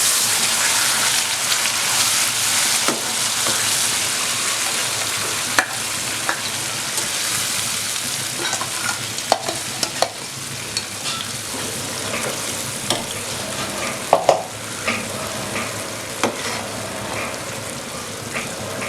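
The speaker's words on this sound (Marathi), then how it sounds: "आपण मिक्सरमध्ये बारीक करून घेतलेला आहे पेस्ट तो टाकणार आहे" Ground gravy paste for kadai paneer fries in a pan with a continuous, fairly loud sizzle and crackle, with occasional stirring scrapes, no voices.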